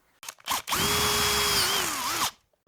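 A power drill whines steadily through a 12 mm hole in a custom SG-style guitar build for about two seconds, pitch dipping as it bites, after a few short bursts and taps.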